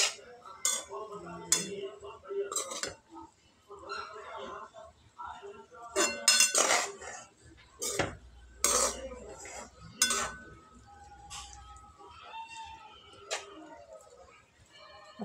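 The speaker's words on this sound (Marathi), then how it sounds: "व्यवस्थित मिक्स करून घ्यायची आहे मेथीची भाजी." Chopped fenugreek leaves (methi) being mixed by hand in a bowl, with irregular clinks and clatters of utensils against the dish, moderately close, in uneven bursts with quiet pauses between.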